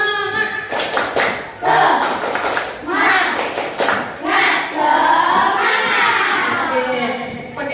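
A class of children doing a rhythmic chanted clapping routine: bursts of hand claps and thumps in patterned groups mixed with loud children's voices chanting along, close and lively.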